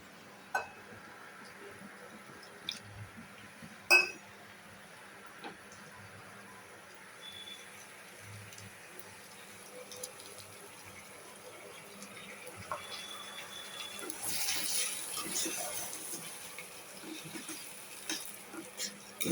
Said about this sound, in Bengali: এর মধ্যে একটু জল দিয়ে দিই